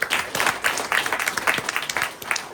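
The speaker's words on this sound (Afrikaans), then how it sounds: "Kan ons vir hulle lekker hande klap gee?" A church audience applauding, a dense patter of many hands clapping continuously throughout, fairly close and lively.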